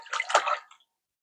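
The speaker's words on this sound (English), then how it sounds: "I'm going to pour my butter in here." Melted butter poured into a mixing bowl of eggs and vanilla for a gluten-free lemon cake batter: a close, wet, splashy pour lasting under a second, then quiet.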